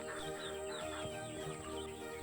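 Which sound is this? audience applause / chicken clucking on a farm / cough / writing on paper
chicken clucking on a farm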